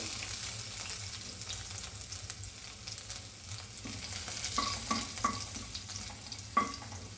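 Crushed garlic hits a hot pan for chana dal pitla, a soft steady sizzle with several spoon scrapes and knocks toward the end, close and quiet, no talking.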